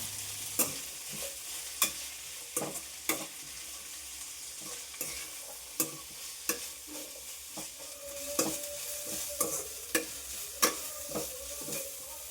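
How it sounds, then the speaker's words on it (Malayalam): Sliced onions sizzling in hot oil in a pan with salt, stirred with a spoon that clacks against the pan every second or so over a steady frying hiss. "സവാള പെട്ടെന്ന് വഴറ്റി കിട്ടാനായിട്ട് കുറച്ച് ഉപ്പും കൂടെ ചേർത്ത് കൊടുക്കാം ഇനി നന്നായിട്ടൊന്ന് വഴറ്റിയെടുക്കണം"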